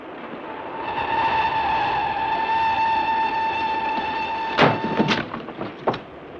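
A moving train in a classic spy thriller film: a steady rumbling roll with a sustained whistle-like tone, followed by several sharp clanks and thuds near the end.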